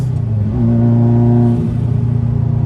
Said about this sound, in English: You get to hear that lovely gated manual gearbox.